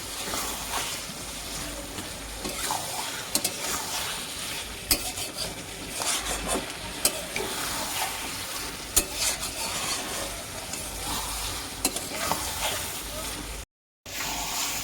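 Pieces of turtle meat fry and are stirred in a pan, a steady sizzle with scraping spoon strokes and occasional metallic knocks continuing for most of the clip before a brief dropout.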